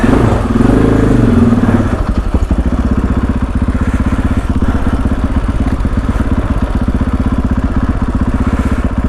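A KTM 500 EXC-F dirt bike fitted with an FMF exhaust pipe and a GET ECU settles into a loud, close, rapid thumping idle after a brief rougher start, holding steady to the end.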